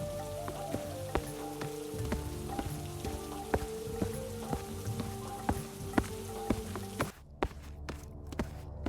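Steady icy rain falls at night, pattering on a hard surface with scattered louder drips and taps, ending in a sudden near-silence before faint drops resume.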